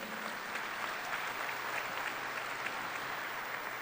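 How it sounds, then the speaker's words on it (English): Steady applause from a crowd at a high school graduation ceremony, dense and continuous clapping at a moderate distance throughout. "Let's give them an applause"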